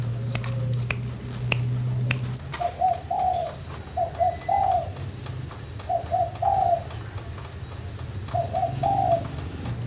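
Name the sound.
zebra dove cooing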